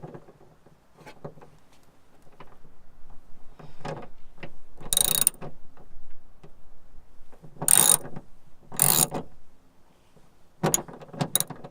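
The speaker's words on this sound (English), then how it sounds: "I'm going to go back and go and tighten it back up." Ratcheting clicks and metallic turning sounds from tightening the bolt on a Nissan 350z rear wiper, short bursts and clicks scattered across the clip, close and moderately loud with no talking.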